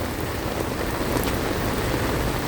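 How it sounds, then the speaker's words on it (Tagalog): Heavy storm rain pours steadily in Canada, a dense hiss of drops hitting surfaces, constant and close with no voices. "Come on, heavy rain."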